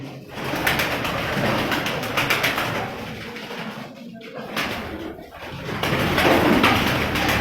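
Pigeons coo steadily in a busy loft, with a dense flock murmuring and rustling throughout, fairly close and continuous.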